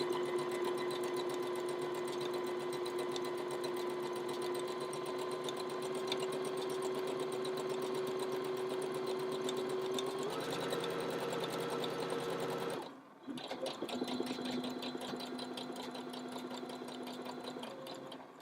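Sewing machine stitching cushion fabric along the edge of the presser foot, a close, steady whirring run that shifts pitch partway, stops briefly, then resumes for a final short stretch.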